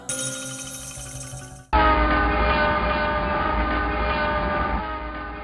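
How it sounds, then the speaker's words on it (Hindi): Loud, close train horn at Mailsi railway station, sounding as a sustained blast that cuts in sharply after an earlier tone, then holds steadily before fading slightly. "ये है मेलसी रेलवे स्टेशन"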